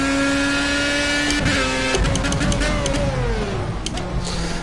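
A Formula A race car in Project CARS revs hard and drops aggressively down to second gear, the engine note climbing and falling through quick throttle blips, loud and close, with some background chatter.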